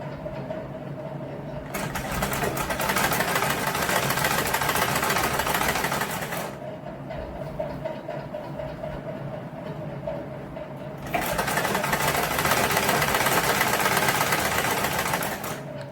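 A sewing machine stitches three layers of fabric together in two long, fast, whirring runs, each several seconds long, with a brief quieter pause between them and close, steady mechanical chatter throughout.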